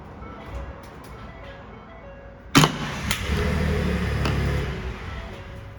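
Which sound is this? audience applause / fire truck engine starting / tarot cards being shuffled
fire truck engine starting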